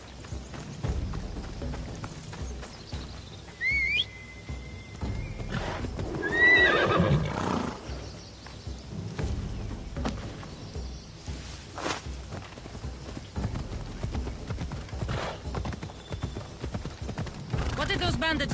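A horse in Assassin's Creed Odyssey gallops with steady hoofbeats and gives a clear neigh partway through, layered under game music and ambient sound.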